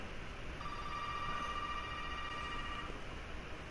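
A phone in the Resident Evil 7 teaser rings with a steady electronic tone held for about two seconds over a low, constant ambient hum.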